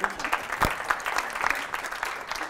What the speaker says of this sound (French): Ben déjà, on peut applaudir, Damien.